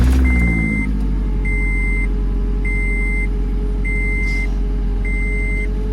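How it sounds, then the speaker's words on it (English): A 2015 Scion tC that has sat unused for a while, running on old gas, idles steadily up close, while a high electronic chime beeps about once every second over the engine hum. "Alright, we are starting it up now."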